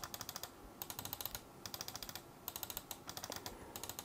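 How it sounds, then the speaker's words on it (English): Buttons on a budget gaming mouse click in quick bursts, crisp light snaps in rapid runs with short pauses between them, close and fairly quiet. "And the buttons are pretty clicky."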